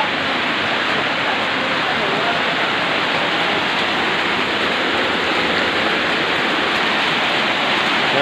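Loud, dense rushing noise of heavy rain and fast-moving flood water in Tudela, Misamis Occidental, steady and unbroken throughout, with no pauses.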